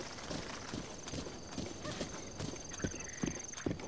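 Horse hooves clip-clop steadily in Zelda: Breath of the Wild, an even trotting rhythm at moderate loudness over soft ambient game noise, with no talking.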